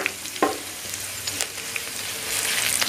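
Sliced ivy gourd (kovakka) frying dark brown in oil with curry leaves, stirred in the pan: continuous close sizzling with occasional scraping knocks of the spoon against the pan.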